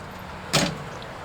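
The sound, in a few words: pest control truck cap topper being closed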